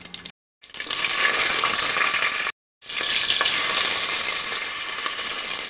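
Bay leaf and dried red chillies sizzle in hot oil with a pinch of sugar in a pressure cooker, a loud, steady crackling hiss broken by two brief silent gaps.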